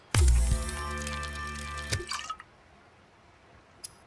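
Watery underwater effects from the video game Subnautica: a loud, resonant burst with a bubbling rush that fades out over two seconds, then faint ambience and a single brief drip.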